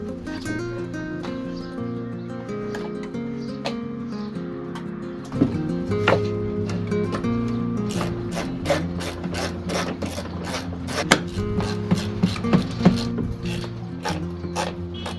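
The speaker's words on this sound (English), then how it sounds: "now we're going to put the battery tray back in" A plastic battery tray is fitted back into the engine bay of a VW Polo 1.2 TSI, heard as close scraping, rubbing and a run of sharp clicks and snaps as it is pushed and clipped into place.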